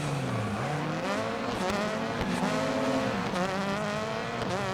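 600HP Subaru rallycross car racing on a Florida dirt rallycross track, its engine loud and continuous with rising and falling revs through gear changes, close and without speech.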